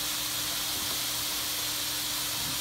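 Seasoned ground beef and onion sizzle in a pan with a continuous, even hiss, steady and close, with no talking.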